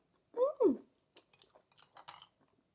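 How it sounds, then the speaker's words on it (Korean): Someone chews dried radish strips left over from brewing radish tea. A short hum of voice comes first, then soft, quiet, chewy bites and small crunches follow close to the mic. "쫀득쫀득, 쫄깃쫄깃해요. 무말랭이 씹어서 드셔도 좋을 것 같습니다."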